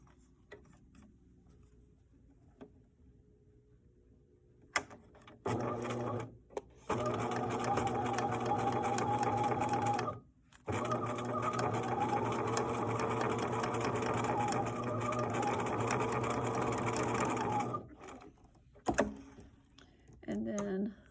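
A sewing machine stitching the sides of a fabric box runs in long steady whirring stretches with brief pauses between them, close and fairly loud.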